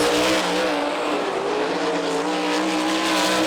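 Sprint cars roar around the big dirt half-mile at Eldon, Iowa, in a Sprint Invaders A-main, with loud, sustained high-pitched engine wail and shifting harmonics as lapped traffic bunches up.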